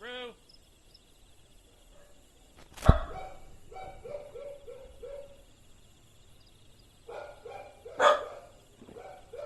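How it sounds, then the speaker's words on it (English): Dogs barking in Final Fantasy XIV, a sharp bark followed by a run of quieter repeated barks, then another loud burst and more yaps near the end, over faint chirping ambience. "But she likes to join in with the barking."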